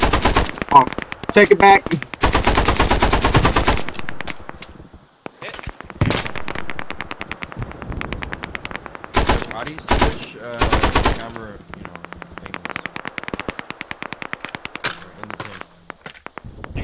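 Rapid gunfire and machine-gun bursts crackle through a trench warfare video game battle, loud and close in repeated volleys, with someone talking over the shooting.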